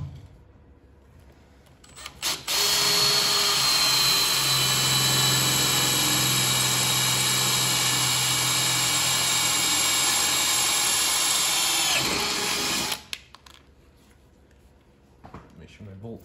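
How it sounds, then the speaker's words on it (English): A power drill bores holes in a junkyard boat trailer, a steady loud whining drone lasting about ten seconds with a quick start and stop at each end. "So now I've got two marks where I can drill my holes."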